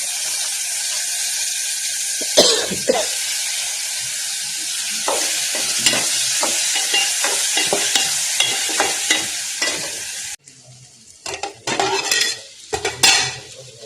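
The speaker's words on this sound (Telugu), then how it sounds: "డైరెక్ట్గా తాలింపులు వేసేస్తాను" Tempering spices crackle and sizzle in a hot pan for upma while a metal spoon stirs and scrapes against it, repeated clinks and scrapes over a constant close sizzle that drops off near the end.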